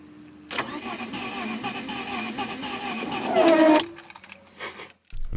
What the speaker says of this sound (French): Le moteur tourne au démarreur.